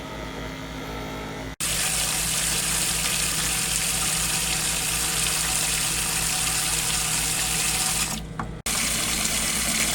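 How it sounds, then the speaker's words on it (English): Pump on a Silverton 34C boat circulating water through a bucket to flush the heat exchanger: a steady, loud rushing water and motor hum that cuts out briefly twice. "So got that pump running, got the air conditioner running with the door open"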